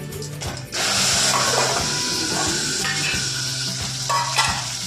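Gunda berries sizzle in hot tempering oil with cumin and asafoetida over a low gas flame, a dense steady frying hiss close by, with faint stirring clinks running through it and no talk.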